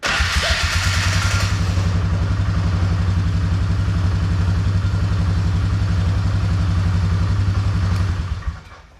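A Polaris Magnum ATV engine with a suspected charging fault idling close by, a loud, steady, even-pulsed thrum with mechanical clatter that holds for several seconds before it cuts out and fades at the end.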